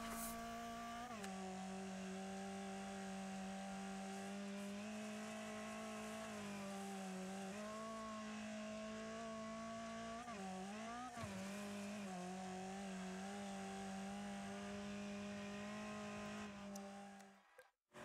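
A Gorbie car in the Wreckfest racing game runs a lap, its engine droning loud and steady throughout, with shifts in pitch as it brakes and accelerates through corners, before cutting off at the end.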